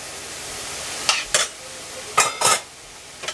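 Pumpkin stuffing ingredients cooking in a pan, with a few brief scraping stirs against a steady low sizzle; two pairs of quick spoon strokes stand out, close and moderately loud.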